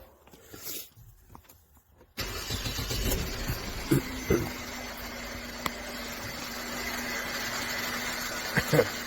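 A 2013 Mercedes-Benz C250 engine with a cylinder 2 misfire cranks and catches after a quiet start, then settles into a steady close idle with a constant hum and a few brief knocks or ticks.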